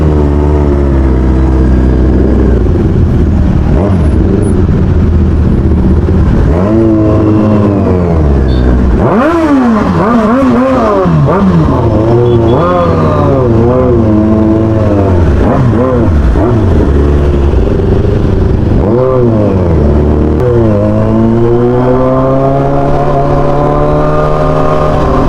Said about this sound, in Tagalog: Lumambot yung tunog, ano? Sarap talaga kapag bagong maintenance sa motor, no?